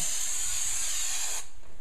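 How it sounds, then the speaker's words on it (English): Spray adhesive hisses from a can onto the back piece of a trunk liner in a Vic Tour install, a single loud close continuous spray that cuts off abruptly near the end. "we're going to spray this back piece"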